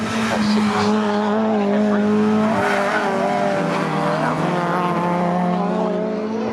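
Racing Honda cars charging out of the gooseneck at Cadwell Park circuit, several engines howling and revving at high pitch together, with tire squeal, loud and continuous as the pack passes.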